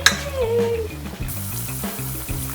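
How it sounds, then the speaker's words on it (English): Breaded food frying in hot oil, a steady bright crackling sizzle with faint knocks and a brief tone over it, continuous throughout with no talking. "It is frying."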